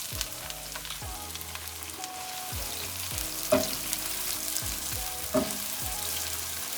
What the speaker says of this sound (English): add our carrot, our garlic, and our onion to it, and we should get a nice sizzle as soon as we put these in